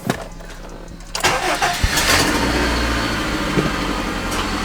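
A 2001–2005 Honda Civic cranks and its engine catches after a quiet moment, settling into a steady close idle.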